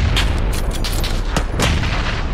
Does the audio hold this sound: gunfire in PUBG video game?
yes